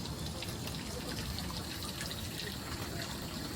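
At a Japanese shrine's chozuya purification fountain guarded by a dragon sculpture, water gushes and splashes steadily as a ladle is filled, close and continuous, with a voice faintly present.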